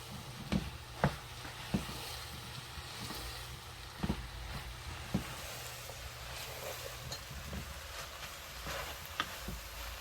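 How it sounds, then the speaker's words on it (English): Fried rice sizzles in a hot pan while being stirred, a steady crackling fry broken by occasional sharp scrapes and taps of the utensil against the pan. "Now we're gonna stir everything together."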